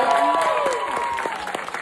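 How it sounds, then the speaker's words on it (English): An audience at the Grammy Museum applauds in honor of the K-pop girl group Twice, a dense burst of clapping mixed with voices and tonal sounds throughout. "can we get some applause for that?"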